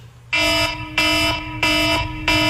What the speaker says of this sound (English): The sound of a nuclear submarine diving into DEFCON 1 isn't the gentle nudge your wife, Tara, wants to hear